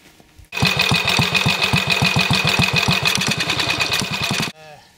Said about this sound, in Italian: Moto Guzzi, Airone, turismo del 1953.